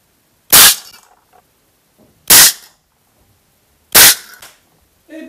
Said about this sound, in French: C'est parti pour 3 tirs.